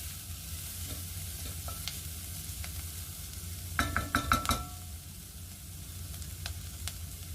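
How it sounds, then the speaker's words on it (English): Onions fry in a pan on the hob with a steady low sizzle, while a utensil stirs and scrapes against the pan in a brief cluster of clinks near the middle; close and fairly quiet. "I don't know how your onions are looking, but I want to get mine a little bit more brown"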